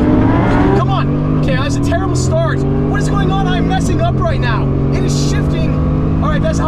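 A twin-turbo Lamborghini revs hard down a drag strip, its loud engine note climbing and dropping through gear shifts while a person talks over it.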